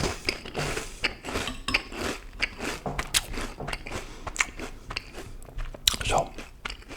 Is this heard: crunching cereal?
yes